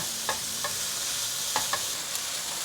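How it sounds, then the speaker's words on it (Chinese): King oyster mushrooms stir-fried in a wok, a steady close hiss of frying with a few sharp clacks of a utensil tossing the pieces, no voices. "现在放入杏鲍菇，把它拌炒均匀"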